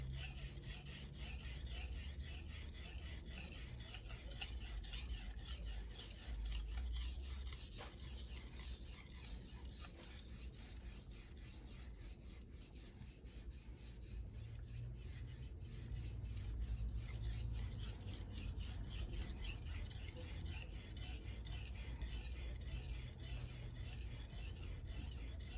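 A knife blade is worked over a Naniwa Economical 1000/3000 grit combination whetstone, making quiet, continuous rasping strokes that repeat at an even pace.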